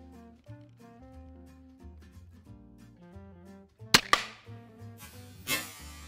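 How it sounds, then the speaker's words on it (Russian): A reinforced Doom Mini crossbow with 200-pound-draw limbs is fired at a shovel, giving two sharp, loud cracks close together near the four-second mark and another impact shortly after, over quiet background music. "Ну, теперь давайте выстрелим с усиленным арбалетом."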